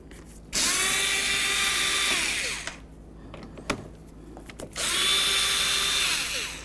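A cordless power drill spins Torx T27 latch bolts loose on the door of a 2008–2012 Jeep Liberty, two sustained whirring runs up close separated by a pause with light clicks and handling noise.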